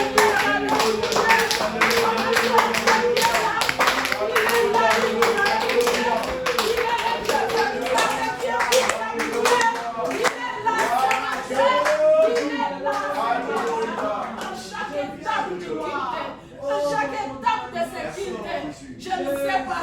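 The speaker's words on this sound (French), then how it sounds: "On acclame le Seigneur." Hand claps, taps and voices fill a church service as a congregation applauds in praise, a dense, steady wash of clapping mixed with loud talk and singing that continues for the whole stretch.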